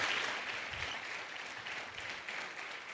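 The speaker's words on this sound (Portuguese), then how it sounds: "Vamos aplaudir a Jesus pela vida dessas pessoas." A church congregation applauds together, a steady wash of clapping that stays even and fairly distant for the whole stretch, with no speech on top.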